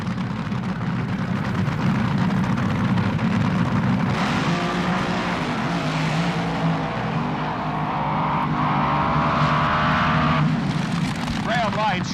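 A 1978 NHRA Gatornationals drag racing car roars through its run, a loud, sustained engine wail that rises and shifts in pitch under continuous announcer commentary.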